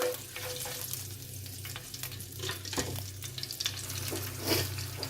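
Chicken pieces frying in hot oil with curry leaves for chicken handi, a busy close sizzle with crackles and stirring scrapes throughout, no talking.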